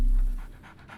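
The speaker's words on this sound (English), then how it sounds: "Why am I hearing a dog?" Dog panting in a Sherlock Holmes adventure video game, a short close burst of quick rhythmic breaths over a brief low tone.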